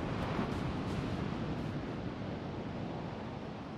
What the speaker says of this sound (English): That's just the soothing sounds of the ocean.